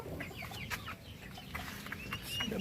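A flock of chickens clucks and murmurs close by in a busy, overlapping chorus with a few sharper calls on top.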